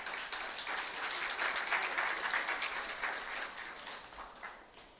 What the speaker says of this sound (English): I believe they deserve a round of applause.